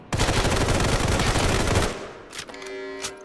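Weapon fire in the free-to-play shooter Sniper Fury comes as one loud, rapid burst lasting nearly two seconds, cutting off into a few quieter clicks and mechanical tones.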